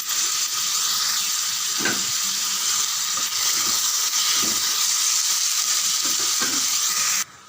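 Ingredients sauté in a hot pan with a dense, steady sizzle and hiss, punctuated by occasional stirring scrapes, before the sound abruptly cuts off at the end.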